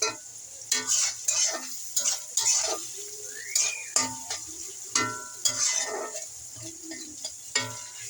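Crushed garlic sizzles in hot oil for a duck dish, a steady close fry broken by repeated scrapes and clinks of a stirring spoon against the pan.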